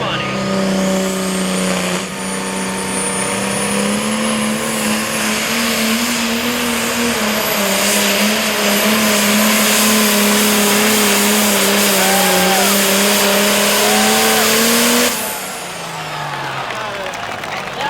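A farm tractor roars loud and close on the pull track at the Washington County Fair in Greenwich, New York, a sustained heavy engine bellow with pitch rising during the pull that drops away near the end.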